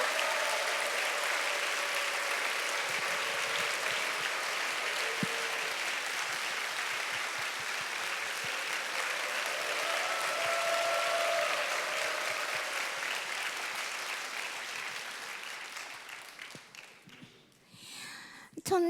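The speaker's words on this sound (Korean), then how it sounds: "우리 피아니스트 김규태 선생님 들어오실 때 큰 박수 부탁드립니다." A church audience at a violin concert applauds a pianist entering, with steady, dense clapping that carries on for a long stretch before thinning out and fading near the end.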